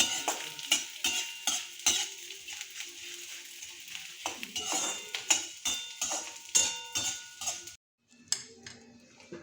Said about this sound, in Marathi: हा बघा तुपामध्ये डीप टाकलाय मी, डिंक, आणि याला अशा प्रकारे तळून घेऊ